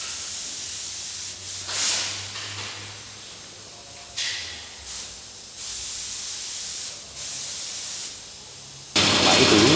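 A spray gun misting the first light clear coat onto a car body in a paint shop, steady loud hissing bursts separated by short pauses, each pass starting and stopping abruptly.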